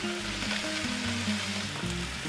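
Vegetables stir-frying in a hot pan, a dense, continuous loud sizzle with low tonal music running underneath throughout.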